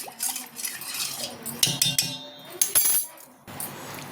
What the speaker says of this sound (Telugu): మనం స్పూన్తో కలుపుకోవాలి సాల్ట్ పసుపు విమ్ లిక్విడ్ లైజాల్ ఇంకా సెంటు మొత్తం బాగా కలుపుకోవాలి